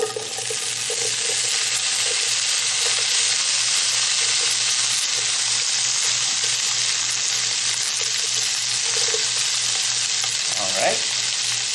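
Spam sizzling loudly in a frying pan, a dense, steady crackle that holds throughout at close range, with a brief clatter near the end and no talking.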